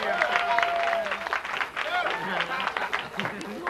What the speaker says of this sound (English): Please give a round of applause to Mr. Kim Barker on drums